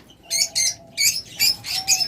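A lovebird chirps in quick, bright bursts, about six sharp calls in a loose rhythm, close by and clear over a quiet background.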